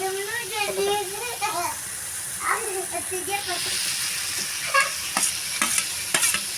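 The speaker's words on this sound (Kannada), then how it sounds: "ಮಿಕ್ಸ್ ಮಾಡ್ಕೊಂಡು ಒಂದು ಸ್ವಲ್ಪ ಈಗ ನೋಡ್ರಿ ಇದ್ರಾಗ ಹೀರೆಕಾಯಿ ಹಾಕೊಳ್ತೀನಿ" Ridge gourd is stirred in a frying pan for a North Karnataka palya, with a soft sizzle and scraping clicks of the spatula, and a voice talks over the first half.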